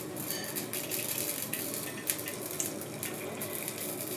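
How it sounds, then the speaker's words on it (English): Hot water poured into a Nongshim Shin Ramyun instant noodle bowl, a soft continuous splashing and trickle with faint clinks, quiet and close with no voices. "This is the hot water."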